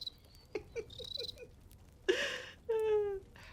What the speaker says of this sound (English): I have the soundboard, so you can't press the cricket sound